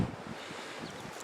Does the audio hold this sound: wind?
yes